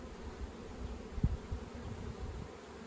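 A honey bee swarm at an apiary gives off a faint, low, steady buzzing hum with a few slightly louder moments, heard without voices.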